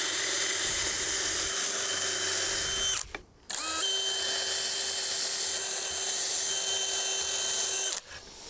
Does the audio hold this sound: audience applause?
no